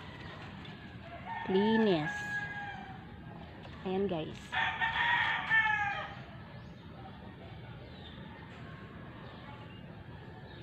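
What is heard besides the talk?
chickens clucking and rooster crowing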